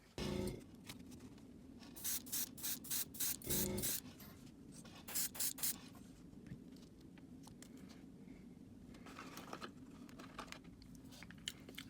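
Spray paint hissing in short repeated bursts as white is shot through a stencil onto a Heddon Super Spook Jr fishing lure, close and fairly loud against a steady low background hum.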